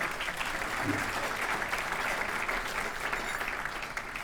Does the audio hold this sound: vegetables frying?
no